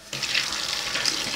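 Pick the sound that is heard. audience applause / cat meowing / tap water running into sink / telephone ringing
tap water running into sink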